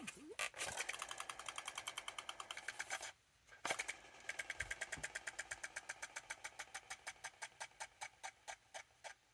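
Rubber-tired Super 7 ThunderCats Ultimates Electro-Charger toy vehicle rolling, giving a rapid, even ratcheting clatter like a small motorcycle engine, close and clear, with a brief pause before resuming and gradually slowing.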